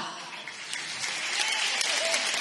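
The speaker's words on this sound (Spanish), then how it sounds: "Jo vaig a demanar també un fort aplaudiment per als dos tècnics que han fet tot això possible." Sustained applause from a concert audience at a spring concert in Miramar, a dense, even wash of clapping that holds steady and swells slightly, with some voices mixed in underneath.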